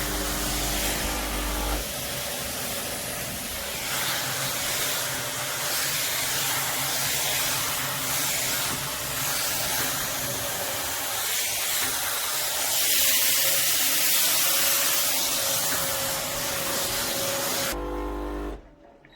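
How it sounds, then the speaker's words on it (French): A Laurastar S Pure ironing board's suction fan runs after being switched from blowing to suction, a loud steady whooshing hiss with a constant motor drone, close by, cutting off abruptly near the end. "Et j'inverse. Hop. Et là, ça aspire vers le bas."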